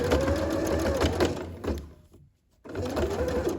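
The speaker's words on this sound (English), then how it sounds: "it's making a sound because this fabric's quite thick" Steady whirring and rapid mechanical stitching of a sewing machine sewing thick hoodie fabric, running loudly, pausing briefly near the end, then resuming at full speed.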